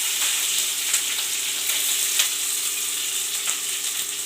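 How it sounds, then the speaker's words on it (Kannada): Onions sizzle in hot oil in a pan with curry leaves for egg burji, a steady, close crackling fry with occasional brighter pops, no talking. "ಕರ್ಬೇವಿನ ಸೊಪ್ಪು ಹಾಕಿದ ತಕ್ಷಣ ಈರುಳ್ಳಿ ಹಾಕೊಳ್ಳಿ."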